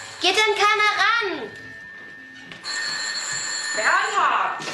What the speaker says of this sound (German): jetzt geh doch mal ins Telefon